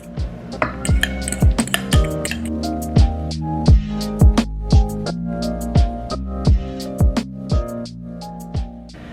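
Pancake mix, mashed bananas and almonds being stirred together in a bowl, giving a steady run of sharp utensil clinks against the bowl with soft wet squishing between them, close and fairly loud with no talking.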